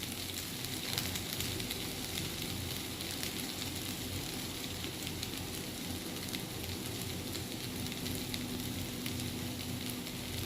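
Parboiled potatoes fry in oil in a pan, giving a dense, steady sizzle and crackle that stays even and close throughout, with no talking.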